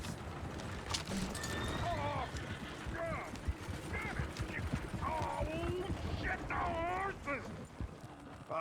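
A horse in the Red Dead Redemption 2 video game clip-clops and squeals amid chaotic scuffling and background chatter, with whinny-like calls scattered through the scene.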